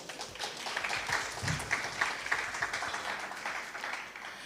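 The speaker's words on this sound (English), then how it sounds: "Please applause to the committee." A conference audience applauds its committee with faint, sustained clapping heard from a distance, steady across the whole stretch.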